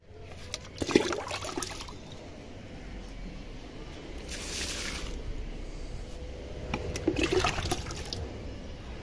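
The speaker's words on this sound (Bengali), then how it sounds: "এখন আগে গাছে জলটা দিয়ে নিই" Water poured onto garden plants, with a steady splashing and trickling flow and a few louder gushing surges. A faint clink is heard near the start.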